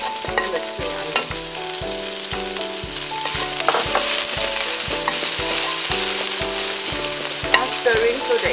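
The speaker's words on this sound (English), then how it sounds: "Start stirring so that it doesn't burn" Garlic, ginger, chili and spring onion sizzle in hot oil while a spatula scrapes and stirs in a steady rhythm, close and continuous with no talking.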